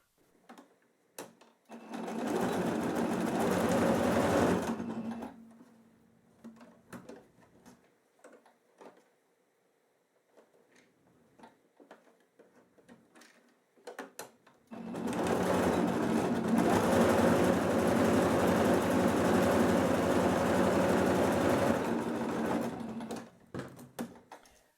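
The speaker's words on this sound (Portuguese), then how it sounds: "vou passar a costura fechando essa parte aqui" A domestic sewing machine stitches a seam closing a small felt Christmas ornament: two loud, steady bursts of rapid stitching, each several seconds long, separated by quieter clicks and handling noises.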